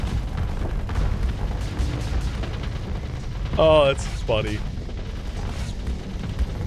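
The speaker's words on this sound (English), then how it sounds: "The Invictus blew up so big, it blew up the Retribution next to it." Starship explosions in the space combat game Starsector: a large Invictus blowing up beside a Retribution. Dull booming blasts and rumble come in a couple of bursts, with a voice talking over them.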